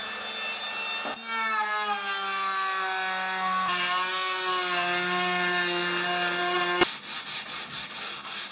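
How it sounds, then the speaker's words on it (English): A quiet Trend brushless plunge router rounds over the edge of a wood rail, holding a steady, even whine for several seconds before a sharp stop and a few lighter knocks. "Using my new Trend pan router, and it's so quiet this, I can almost use it without e-defenders on because it's brushless."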